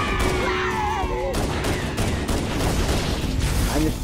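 Dense, continuous gunfire from Halo Anniversary in a hallway fight, loud and sustained throughout with game effects and chatter layered over the shooting.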